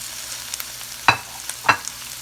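Beet greens sauteing in a hot pan: a low steady sizzle with two sharp, close scrapes and clatters of stirring, no voices.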